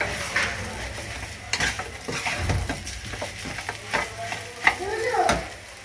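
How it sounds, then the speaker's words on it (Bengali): Semolina stirred together with spices in a pan over a very low gas flame, with steady scraping strokes and soft dry shuffling, a gentle sizzle beneath and a few sharper knocks against the pan. "গ্যাসটাকে একদম আস্তে দিয়ে এটার সঙ্গে ভালো করে মিক্স করতে হবে"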